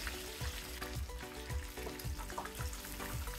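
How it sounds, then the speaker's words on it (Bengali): Chicken fry pieces bubble and sizzle in hot oil in a home kitchen, a close steady crackle broken by regular soft knocks about every half second, likely from stirring in the pan. "এবার 1 থেকে 2 মিনিটের মতো ভেজে নেব।"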